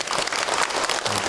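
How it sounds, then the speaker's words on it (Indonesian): A seated audience at an Islamic religious talk claps steadily for a person who asked a question, a dense, continuous wash of many hands at close range with no talking over it. "Tepuk tangan buat yang bertanya."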